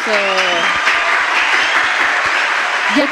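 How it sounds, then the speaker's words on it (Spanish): An audience applauds at a casual Spanish-language comedy show, dense steady clapping filling the whole stretch, with a voice briefly heard at the start and again at the end. "Sigue un aplauso para el censo."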